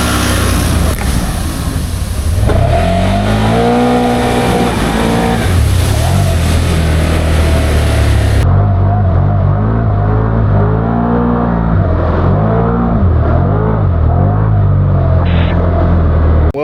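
A Honda Rancher ATV on 28-inch Aztec tires pushes through a trail hole, its engine loud and close, revving up and down in repeated surges without speech.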